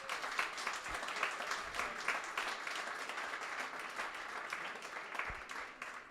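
An audience applauds at a comeback conference in Berlin, steady clapping from a large crowd held at an even level for several seconds, heard from a moderate distance.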